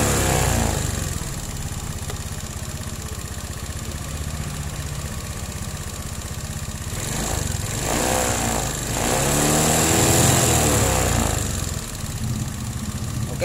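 A motorcycle engine, being checked for an over-voltage charging coil and hot regulator, idles loudly up close and then revs up twice in rising and falling surges before settling back to idle.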